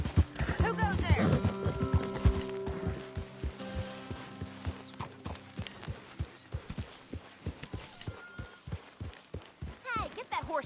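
Horse hooves clip-clop in a steady walking rhythm in Red Dead Redemption 2, close and distinct, with a whinny near the start, voices, and music-like tones underneath.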